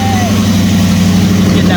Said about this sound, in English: Idling and everything.